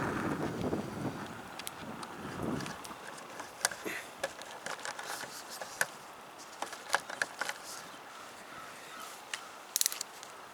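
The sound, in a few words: wind blowing outdoors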